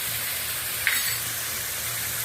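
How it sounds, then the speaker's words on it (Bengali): Ground spices, coriander and cumin powder, and ginger paste frying in oil for a fish curry, a steady close hiss with a brief scrape of the spoon partway through. "আরো মশলাটাকে কষিয়ে নেব"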